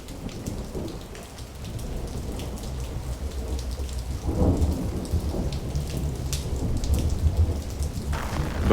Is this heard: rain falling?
yes